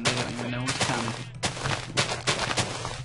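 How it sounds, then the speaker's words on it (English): An explosion goes off next to sheep in a modded video game, heard as a series of sharp, loud booming bursts with a rumbling tail. A voice talks over part of it. "Should we explode the ice? Nah, let's do it next to these sheep."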